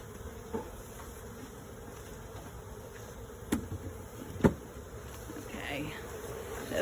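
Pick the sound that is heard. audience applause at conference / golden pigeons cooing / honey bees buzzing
honey bees buzzing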